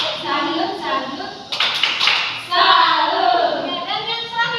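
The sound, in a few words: children clapping a 'tepuk salut' clap chant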